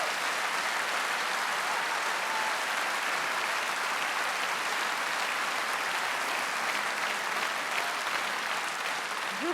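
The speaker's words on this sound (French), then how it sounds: "On peut applaudir monsieur." A theatre audience at a live French comedy sketch gives sustained, even applause, dense clapping from many hands that fills the whole stretch without voices.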